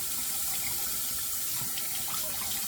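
Tap water running steadily into a sink to warm a razor, a continuous close rushing splash without pauses, no talking.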